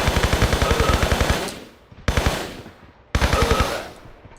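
Enemy gunfire in the Tomb Raider 3 Antarctica level: a loud rapid burst of automatic shots for about a second and a half, then two more short bursts, each cut off sharply, with no talking.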